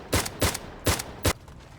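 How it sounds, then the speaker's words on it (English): Four sharp gunshots in a video game, loud and close, fired in two quick pairs with a brief pause between them. "I thought I heard a gunshot from very far away"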